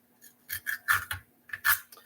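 Scissors cut open chalk paint packaging in a quick series of about seven crisp snips and crunches, close and clear in a quiet room.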